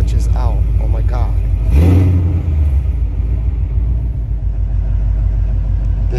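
A car with a newly installed Tremec transmission rumbles loudly and steadily as the clutch is let out, with a brief engine surge early on and no grinding noise over the deep drone.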